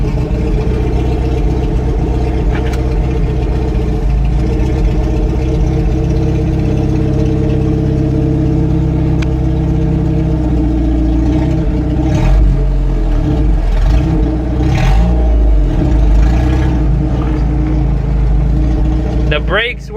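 Jeep Comanche pickup with a newly installed clutch idles loudly and close, its engine droning steadily before revving and pulling away, with someone talking over the motor.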